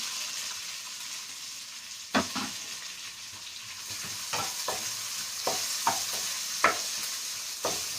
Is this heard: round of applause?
no